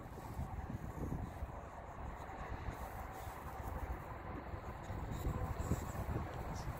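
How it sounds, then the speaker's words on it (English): Steady wind rumbles and buffets outdoors, with low gusty noise pressing on the microphone throughout and no clear voices. "It's kind of windy out today."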